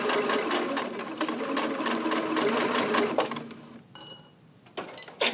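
Sewing machine stitching a lined zipper pouch, a steady rapid mechanical whir for about three seconds, then stopping, followed by quieter clicks and handling noises near the end.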